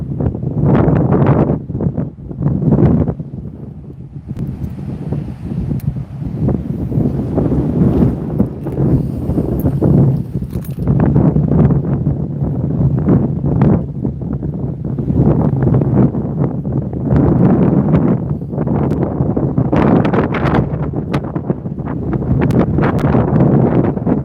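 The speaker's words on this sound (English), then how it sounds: "So I know it's really windy." Strong outdoor wind buffets the microphone in a loud, continuous roar with rising and falling gusts throughout, and no voice comes through clearly.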